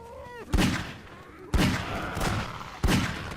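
Gunfire in the first-person shooter Half-Life 2: three loud, sharp gunshots spaced about a second apart, each with a ringing tail, following a short rising whine at the start.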